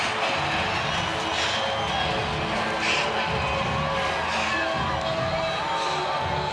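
A packed college football stadium crowd roars and cheers continuously as the Clemson Tigers' team buses arrive for the game against NC State, a dense, loud wall of voices with scattered higher shouts rising above it.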